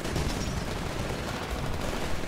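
Gunfire in Titanfall, a dense and loud stretch of rapid automatic shots and impacts that runs unbroken for a couple of seconds, with no voices over it.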